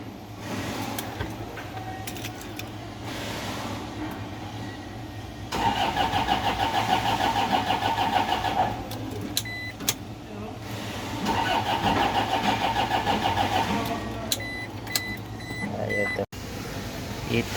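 A flood-damaged Toyota Innova engine cranks in two long, loud whirring bursts, each several seconds, with lower mechanical rumble between and a brief catch near the end; voices talk nearby.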